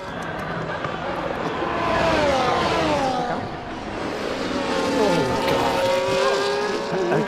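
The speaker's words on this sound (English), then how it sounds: "That's a lockup from Alex there." In the F1 24 racing game at Monaco, Formula 1 cars scream past with high, shifting engine whines while tires squeal under a brake lockup, and a voice talks over the racing noise.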